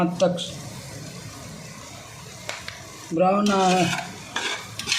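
Onions browning in a pan while cooking broken-wheat upma give a steady close sizzle with repeated stirring scrapes; a voice speaks briefly partway through.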